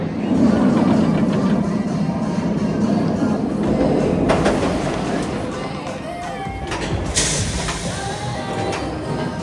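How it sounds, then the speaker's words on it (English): The Firebird, a B&M roller coaster at Six Flags America, rumbles and clatters along its track on its final run, a steady rolling roar with occasional sharp rattles, while people talk and call out nearby. "This is going to be the final train ever on the world's first B&M roller coaster"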